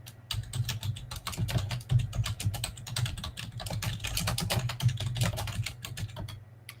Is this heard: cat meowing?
no